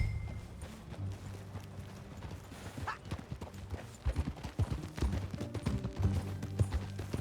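Horse hooves clip-clop steadily as a rider travels on horseback in Red Dead Redemption 2, the rhythmic footfalls growing louder and busier midway under a low musical bed.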